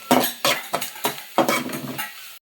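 Mangalore-style chicken sukka is stirred on a low flame: about seven rhythmic scraping strokes of a utensil against the pan ride over a soft sizzle, then the sound cuts off abruptly.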